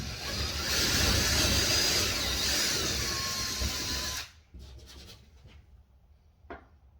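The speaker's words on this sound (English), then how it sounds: "I prefer to pre-drill these holes." A power drill whirs loudly for about four seconds as it pre-drills holes into a wall stud while a TV bracket is mounted, then stops, leaving faint rustling and a brief tap.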